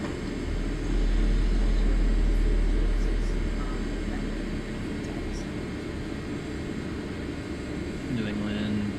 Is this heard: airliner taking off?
yes